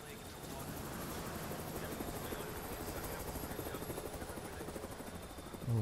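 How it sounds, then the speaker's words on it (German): A helicopter flies in the stealth video game Splinter Cell Blacklist, its steady whirring rotor drone loud and continuous throughout, with some speech over it. "Oh, Helikopter."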